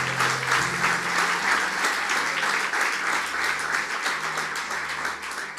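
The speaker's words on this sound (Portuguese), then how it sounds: "pode aplaudir o Senhor" A church congregation applauds steadily for several seconds, a broad even wash of many hands with a faint low hum beneath and little talk.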